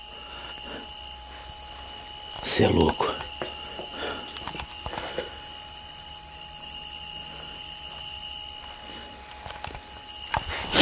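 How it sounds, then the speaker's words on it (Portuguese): Faint, steady high-pitched chirping of crickets runs throughout a quiet night scene, interrupted by rustling and a brief spoken comment. "aqui você consegue escutar só os grilos"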